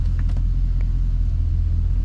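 A Chevy SSR with a freshly installed transmission cruising along, heard as a constant low engine rumble and road noise from inside the cab, with a few faint clicks early on.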